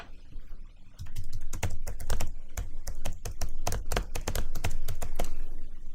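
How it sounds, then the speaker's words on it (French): Fingers type steadily on a computer keyboard, close and crisp, a fast irregular run of key clicks starting after a second of quiet room tone, with no talking. "Je tape quelque chose."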